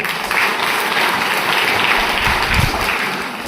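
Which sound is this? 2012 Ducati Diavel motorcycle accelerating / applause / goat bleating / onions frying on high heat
applause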